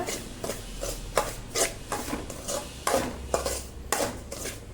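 Semolina roasting in ghee for rava unde, stirred with a spoon in a pan: a rhythmic series of close scraping, rubbing strokes over a faint sizzle, with no talking.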